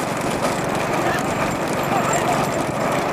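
Pairs of bulls pulling bullock carts in a big cart race in Ramanathapuram district, Tamil Nadu: a dense, steady roar of pounding hooves, rattling wheels and crowd noise, with an announcer talking over it.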